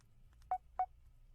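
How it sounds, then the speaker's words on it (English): Two short electronic tones from a phone ringtone, each a brief beep, sounding alone over a faint low hum. "But my ringtone, I'm going to play for you right now."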